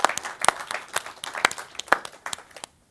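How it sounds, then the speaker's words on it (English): Sparse applause from a small conference audience, individual sharp claps spaced irregularly and heard close, fading to silence just before the end, with no talk over it. "Yes, this deserves an applause."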